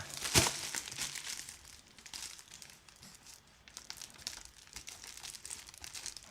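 Packaging crinkles and tears during an unboxing, a sharp rip near the start followed by steady close crackling and rustling of wrapping for several seconds, with no talking.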